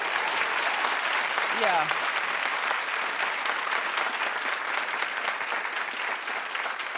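A studio audience on a daytime talk show applauds in a sustained, even roar of clapping lasting the whole stretch, with a brief voice heard early on.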